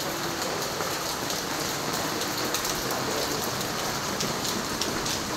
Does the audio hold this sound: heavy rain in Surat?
yes